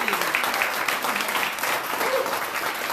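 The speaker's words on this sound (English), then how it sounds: "let's give it a round of applause for that" An audience at a talk-show event breaks into applause, a steady wash of many hands clapping at moderate volume throughout.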